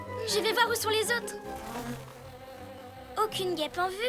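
A cartoon bee buzzes in bursts, the whine rising and falling over busy animated-series music and effects, with a voice talking over part of it.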